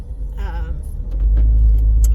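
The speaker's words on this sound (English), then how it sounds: "I am in traffic right now because it is pretty backed up" A car's interior carries a deep, constant road rumble in stop-and-go backed-up traffic, with the low drone swelling louder partway through and a brief voice early on.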